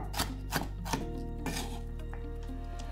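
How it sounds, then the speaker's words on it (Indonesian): Knife chopping a Holland onion on a cutting board, four quick crisp cuts spaced about a third of a second apart, then a softer scraping pass; close and clear with no voices. "Cincang je macam Cik Nam buat ni."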